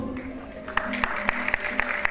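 A few people clap in a slow, steady rhythm, the sparse claps sounding over a sustained musical tone in the background.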